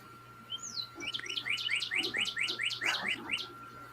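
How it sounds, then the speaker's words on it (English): A small bird close by sings a rapid series of bright, repeated chirps, about a dozen quick notes rising in loudness and then trailing off over a faint steady hum. "Sorry if that bird's making noise."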